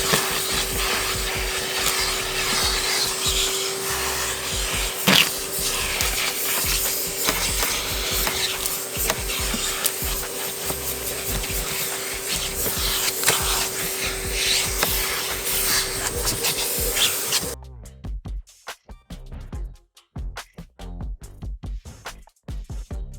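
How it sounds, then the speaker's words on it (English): A vacuum cleaner runs steadily with a rough, rubbing hiss as the nozzle works over a Honda Civic's interior, then cuts off, leaving scattered quiet knocks and shuffling. "So let's go ahead and grab the vacuum. Let's vacuum everything out."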